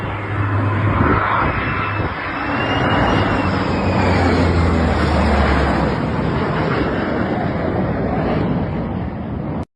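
FA-18F Super Hornet and F-35C stealth fighter jets flying over the Sea of Japan, a loud, sustained engine roar with wind buffeting throughout, cut off abruptly at the end.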